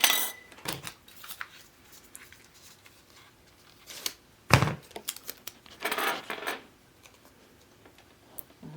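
Glass seed jars getting their lids handled and set on, producing scattered light clinks, taps and rattles with quiet pauses between, close and fairly soft.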